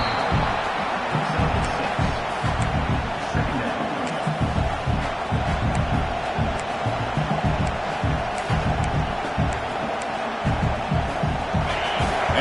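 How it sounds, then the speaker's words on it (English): Football stadium crowd roars steadily and loudly throughout, a dense wall of cheering as fans urge on the defense before a red zone play, with commentary voices faintly running beneath. "This crowd is trying to inspire this defense to make a big red zone stop."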